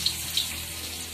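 Water runs steadily from a kitchen tap during medu vada preparation, a continuous close hiss with two slight splashy bumps near the start and no voices.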